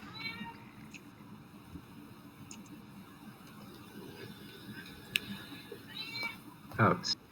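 A cat gives a short meow near the end, close and fairly loud, after a stretch of quiet room noise with soft talking.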